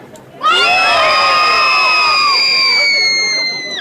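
A crowd of children and adults at a medieval fair shouts together on cue in one loud, sustained cheer that starts abruptly and holds for about three seconds.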